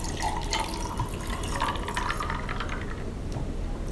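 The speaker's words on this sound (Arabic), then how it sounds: "هتجيب بعد كده لبن عادي خالص وهتقوم صبه" Plain milk poured over a layered glass of grapes and ice, a steady, close splashing pour running unbroken for about four seconds with no talk.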